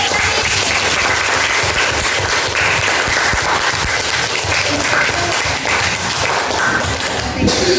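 Classroom of children clapping together after a pupil answers, a dense, steady patter of small hands filling the room at close range, with a low background rumble and no talk over it.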